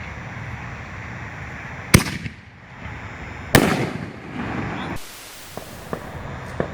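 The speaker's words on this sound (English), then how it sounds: "Got the second Venom artillery shell by Hog Wild," Hog Wild Venom artillery peony shell fired from a canister, with two sharp loud booms a couple of seconds apart, each trailing into crackle and hiss, then a burst of broad static-like noise.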